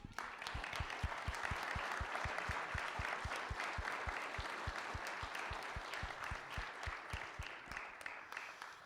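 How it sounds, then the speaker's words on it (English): An audience at a county commissioner and council primary candidate forum in Muncie claps for the candidates, a quiet, steady run of distinct claps at a fairly even rhythm that lasts about nine seconds and thins out at the end. "I'd like to give a round of applause to the candidates"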